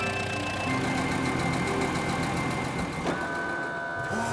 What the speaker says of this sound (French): Les véhicules empruntent la rampe et montent dans l'avion.